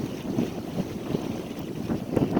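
Steady wind rushing and buffeting across the microphone aboard a sailboat under a rain cloud, with water noise beneath, swelling in gusts and strongest near the end.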